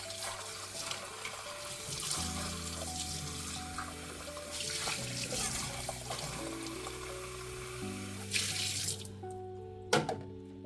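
Tap water pours steadily into a kitchen sink while cans are rinsed out, a continuous close splashing stream that stops abruptly near the end, with faint tonal background sound underneath.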